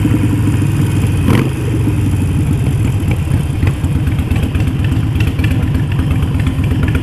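A 2019 Harley-Davidson Iron 883 motorcycle engine runs steadily, with a loud, close, lumpy V-twin idle that pulses evenly and clatters mechanically throughout, with one brief rise early on and no talking.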